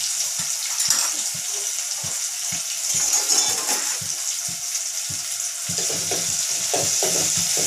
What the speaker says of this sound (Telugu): నెక్స్ట్ వచ్చేసి ఉల్లిపాయలు, ఇవి బాగా కలుపుకున్నాం.